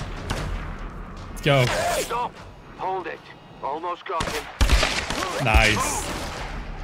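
Gunfire in a firefight in the Tomb Raider video game: a rapid series of sharp, loud shots and heavy blasts spread across several seconds, with voices talking between and over the bursts.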